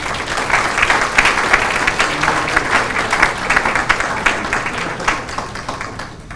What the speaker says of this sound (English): A round of applause for Tiara Moore.